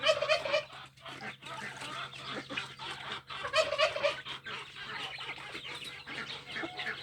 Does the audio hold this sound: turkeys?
yes